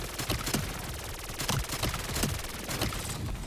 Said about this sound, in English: We can use our SMG.